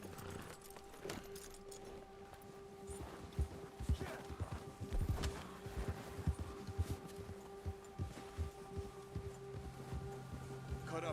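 Horse hooves clip-clop at a walking pace in Red Dead Redemption 2, quiet and uneven, with a steady hum beneath and occasional soft voices.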